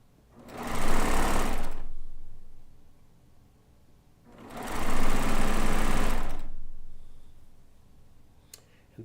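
Sewing machine running in two bursts of about a second and two seconds, a fast steady mechanical whir and stitching rattle, close, with a quiet pause between and no talk.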